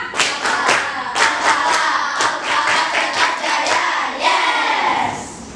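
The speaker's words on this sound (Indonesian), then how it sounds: "Kita semua tepuk al-falah." Schoolchildren in a classroom perform the al-falah clap chant, sharp rhythmic group claps in quick bursts mixed with shouted chanting voices, ending in a drawn-out call.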